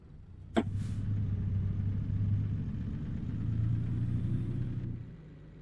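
A truck engine in American Truck Simulator starts with a sharp click and then settles into a steady, low rumbling idle that swells slightly before cutting off near the end, with no talk over it.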